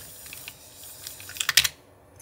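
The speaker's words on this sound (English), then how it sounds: "after you rewind your film, and you will be able to hear that sound outside of the camera" Film rewinding inside a Yashica Lynx 14 rangefinder camera, heard as a quiet run of small mechanical clicks and ticks that bunch into a louder rattling burst near the end, close up with no voices.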